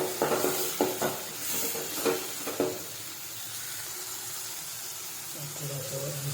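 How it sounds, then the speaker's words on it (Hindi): Tomato goes into a pan of golden-fried onion for egg bhurji: a few knocks and clatters as it is added and stirred, then a settled, steady frying hiss close by. "अब हम इसमें टमाटर छोड़ेंगे। टमाटर अच्छे से भून लेना है।"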